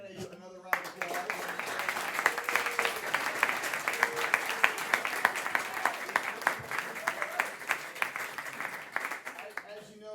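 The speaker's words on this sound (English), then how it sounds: "Let's give our candidates another round of applause." Audience at a Missouri House District 61 candidate forum applauding steadily for about ten seconds, a dense, sustained wash of many hands clapping in a room, with faint voices mixed in.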